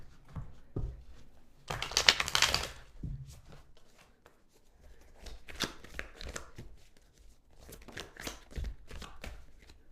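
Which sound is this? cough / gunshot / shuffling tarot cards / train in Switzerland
shuffling tarot cards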